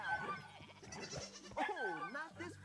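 Sheep bleat in the VR game DvG, with several wavering calls rising and falling close by, mixed with someone speaking over them.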